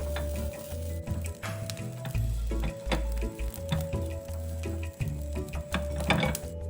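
Chopped dried shrimp stir-fried dry in a wok with only a little leftover oil, giving a steady sizzle broken by irregular scraping and tapping of the spatula against the pan, close and moderately loud with no talking.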